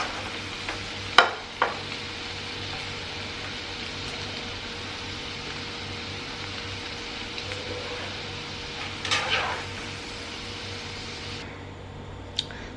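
Sweet corn frying in hot oil, a steady soft sizzle running throughout with a few brief clinks of stirring, fairly quiet and alone.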